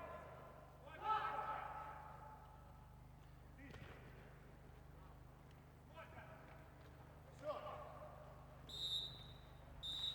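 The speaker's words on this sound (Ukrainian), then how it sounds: "лунає фінальний свисток" A referee blows the final whistle at a street football match: two short, shrill blasts near the end, heard over quiet crowd noise and faint commentary.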